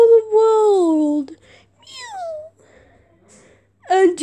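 Kitten meows from a children's animal program: a few drawn-out, sliding cries spaced apart, close and clear, with a quick breathy gasp between them.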